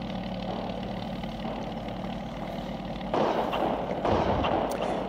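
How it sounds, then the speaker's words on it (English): A WWII Spad S VII fighter plane's engine runs at full throttle in a flying war game, a steady mid-pitched drone that grows louder and rougher partway through, with no talk. "So we disengage the brake, full throttle on."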